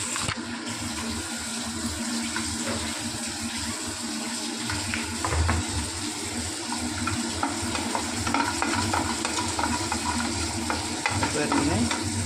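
Food frying in a pan with continuous sizzling and frequent scraping, clattering stirs, heard close up and without talk for the whole stretch.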